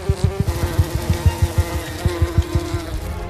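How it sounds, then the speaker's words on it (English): Bees buzzing in a forest alongside horned cicadas, a close steady drone with rapid rhythmic pulses of wingbeat throughout, loud and alone without voices. "Bees."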